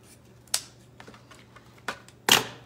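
Scissors snip through a long piece of buffalo plaid ribbon for a DIY window pane wreath, giving a few sharp, separate cuts close by against a quiet room hum.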